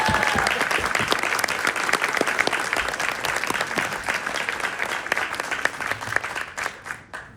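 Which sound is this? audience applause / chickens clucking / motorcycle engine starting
audience applause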